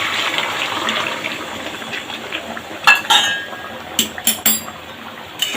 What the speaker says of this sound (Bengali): এই সময় গরম জলটা দিয়ে দেবো।